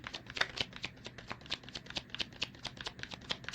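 Tarot cards shuffled by hand in quick, regular riffling bursts, close and fairly quiet, with no talking.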